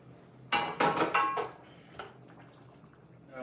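A spoon scrapes and clinks against a pot of steak chili in a quick burst of stirring strokes, followed by a lighter knock and quiet bubbling.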